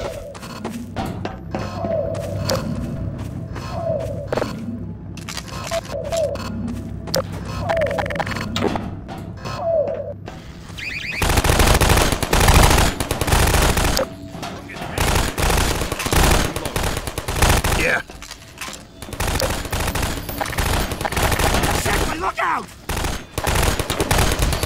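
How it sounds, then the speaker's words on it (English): Rapid automatic gunfire from sentry turrets in Half-Life 2 Episode Two, erupting loud and dense after a quieter stretch of tonal effects and continuing in sustained bursts. "Freeman, you take care of the turrets."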